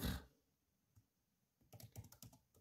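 Someone types on a computer keyboard while working in Canva, with a first soft click, a pause, then a quick quiet burst of keystrokes near the end.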